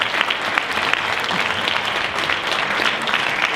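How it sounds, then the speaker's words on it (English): Audience at a 2013 Jersey City Heights mayoral candidates forum applauding, a loud, dense wash of many hands clapping that holds steady throughout, with no talk over it. "So give yourselves a round of applause for showing up tonight and wanting to participate in this process."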